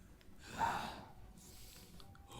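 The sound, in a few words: panting from a Genshin Impact video game character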